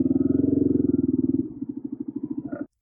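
A motorcycle engine at full throttle climbs a steep slope in Algeria, a close loud chugging with fast regular firing pulses that slow and thin out partway through before cutting off.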